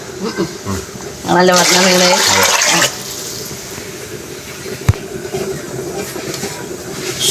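Water gushes loudly into a cooking pot of rice for about a second and a half, then gives way to quieter room noise and a single sharp knock.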